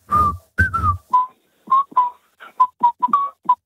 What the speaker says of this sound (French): Tu sais siffler